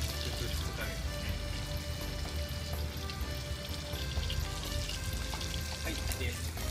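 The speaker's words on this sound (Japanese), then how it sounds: "ベーコンの方、だいぶ炒まってまいりました" Bacon frying in a pan for carbonara, a steady, dense sizzle and crackle heard up close, running without pause throughout.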